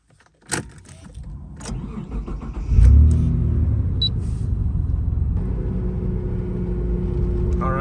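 A 1997 Mitsubishi GTO starts up and drives off: a sharp click and thump, then the engine rises with a strong low rumble and settles into a steady, loud idle-to-cruise drone, with no talk.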